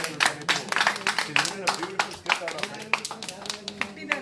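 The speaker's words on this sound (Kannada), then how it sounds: "ಚಪ್ಪಾಳೆ ಹೊಡಿ" A studio audience at a Red FM radio show in Hubli claps in quick, uneven bursts that run across the whole clip, close and lively, with voices mixed in among the claps.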